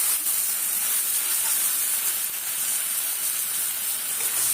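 Spices and meat fry in a pan while aloo dum is being cooked, producing a continuous bright hiss and sizzle at a steady level with no talking.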